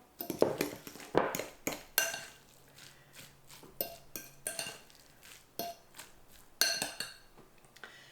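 A utensil stirs food in a pan, clinking and scraping against the metal in irregular bursts, some sharp and bright, others softer, with no voices.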